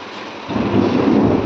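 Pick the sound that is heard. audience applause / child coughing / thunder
thunder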